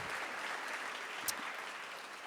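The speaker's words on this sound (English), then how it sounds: "A round of applause for City." A theater audience claps at a book event for The Well-Tempered City, a dense, even wash of applause at moderate distance lasting a couple of seconds.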